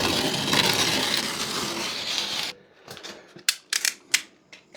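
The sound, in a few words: utility knife cutting and snapping plasterboard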